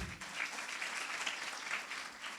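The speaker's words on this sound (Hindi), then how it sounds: "एक बार ताली बजाओ" Steady applause from an audience at a Friday church youth meeting, a dense wash of clapping that holds at an even level for a couple of seconds with no voices over it.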